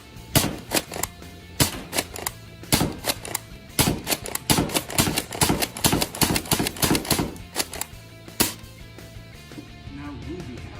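Dart Zone Nexus Pro X toy blaster slam firing foam darts, a rapid run of sharp plastic snaps and clacks in quick bursts, close and fairly loud, with a brief pause near the end.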